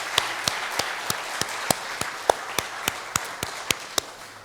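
A church congregation at a Christmas service claps in thanks to the choir, sparse rhythmic hand claps ringing out one by one at a steady pace.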